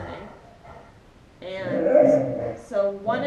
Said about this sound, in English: that is my dogs, they're playing.